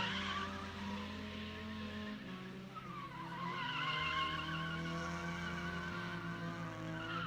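A Miata drift car slides around a drift pit, engine revving with shifting pitch while tires squeal and skid continuously, heard at some distance and fairly faint.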